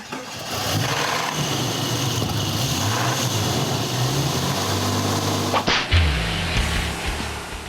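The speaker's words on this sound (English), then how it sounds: "on first startup and under load, this 4-liter sounds a little rough" A Jeep Cherokee's 4-liter straight-six engine runs roughly, a loud steady rumble with uneven pulsing, then a sharp revving surge near the end, no voices.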